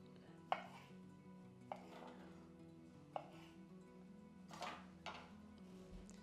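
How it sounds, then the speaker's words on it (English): A knife cuts cherry tomatoes for a Mediterranean quinoa salad. There are five crisp, separate taps of the blade on the board at uneven intervals, close and clear over a low steady kitchen hum. "Let's cut our cherry tomatoes."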